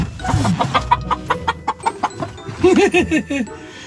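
A nearby hen clucks inside a tractor in a quick series of short, rhythmic notes, ending with a louder run of throaty clucks.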